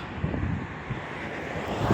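Steady desert wind in Chile gusting across an open, litter-strewn plain, a broad continuous rush with microphone buffeting that swells slightly toward the end, with no voices.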